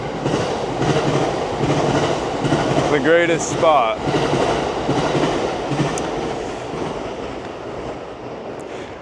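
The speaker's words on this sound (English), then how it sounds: "There's a train coming right behind me." A train passes close behind a person walking outdoors in Japan, a steady loud rumble of rail wagons with brief wheel squeal and clatter, while a voice speaks briefly over it.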